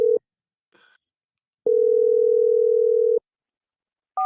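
Telephone tones while a call is placed: a short tone, then a single steady tone of about one and a half seconds, and another tone starting just as the sound ends, with silence between them.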